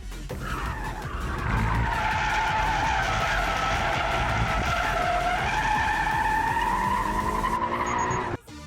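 Car performing an inertia drift entry, its rear tires losing traction and squealing in a long continuous skid over engine roar, loud and close for several seconds before cutting off.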